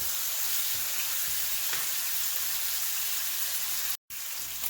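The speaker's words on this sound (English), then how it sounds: "you want to flip it. And let it cook another 2 more minutes." A bone-in New York strip steak searing in a hot pan gives a steady, dense sizzle and crackle, close and continuous, with a brief sharp dropout near the end before the frying hiss resumes.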